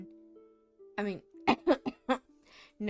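A Demonheart game character gives a short series of rough coughs, about four quick bursts after a brief throaty vocal sound, close and clear over a faint background tone.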